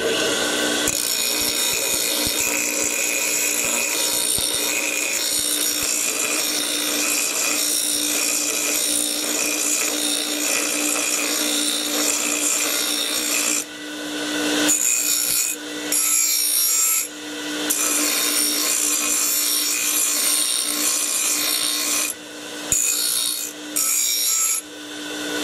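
Abrasive wizard wheel on a tool grinding a metal mower deck engagement part, a loud continuous harsh rasping drone with brief dips where contact breaks and resumes.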